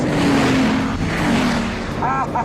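A 1,000-horsepower Bugatti engine roars loud and close while accelerating at high speed in a race, with a sustained droning pitch that slides and rises, plus a short whining burst near the end.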